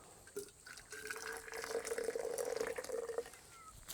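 Hot water pours steadily into a cup for about three seconds, a close, continuous trickling stream that rises slightly in pitch as the cup fills, with no talking.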